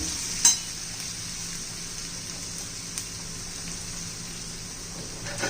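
Ginger, garlic and dried coconut fry for a veg biryani with a steady close sizzle, like light rain, broken by a sharp clink of a stirring spoon near the start and again at the end.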